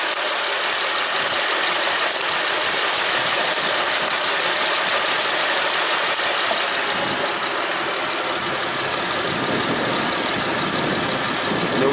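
A Honda Pilot V6 engine, running after an engine swap, idles steadily at about 700 RPM, a continuous close mechanical hum with broad hiss, with no talk over it.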